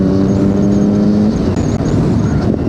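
Triumph Daytona 675 motorcycle engine with a straight-through exhaust, a loud, steady engine drone held close by, with a strong low tone that holds and then shifts partway through, no speech.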